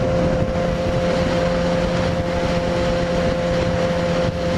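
A Yamaha FZ6R motorcycle cruises steadily in top gear with a constant engine drone beneath heavy rushing wind noise, a continuous near roar with no talking.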